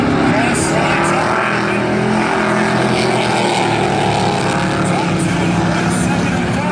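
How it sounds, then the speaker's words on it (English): Racing trucks roar around a dirt oval at Valley Raceway, a loud continuous engine drone with layered passing motors, heard under a commentator's voice. "Problem for Wright, you can hear it does not sound good in that number 11 truck"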